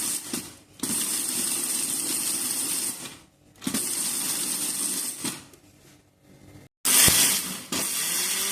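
An electric mixer grinder grinds whole spices coarsely in short bursts, a loud whirring roar that stops and restarts several times with brief silent gaps between runs.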